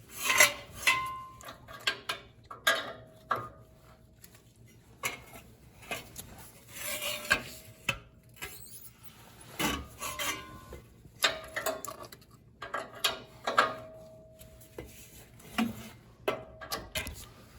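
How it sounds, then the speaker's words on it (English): Breaker bar working a seized, unlubricated oxygen sensor loose on the passenger-side bank 2 exhaust of a Toyota 4Runner with the 4.7 V8, giving close, irregular metallic rasps, creaks and clicks in short bursts with no talk. "this is actually hard with this breaker bar, so I didn't put any lubricant on this thing"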